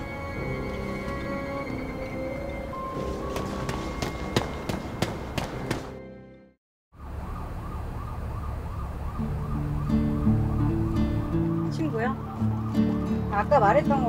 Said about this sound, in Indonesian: Begitu polisi dan petugas medis datang, si En langsung diangkut ke mobil ambulan tuh